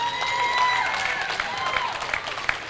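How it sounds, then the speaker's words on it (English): A reception crowd at an air show event claps in a steady, even wash of applause, with a few whistles and cheers cutting through near the end. "Let's have a round of applause for my team."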